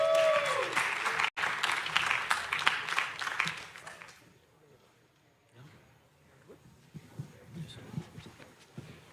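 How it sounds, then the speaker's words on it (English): An audience at the ETHDenver closing ceremony applauding, a dense burst of clapping for about four seconds that quickly fades into scattered claps and low room murmur. "Round of applause for Ajay."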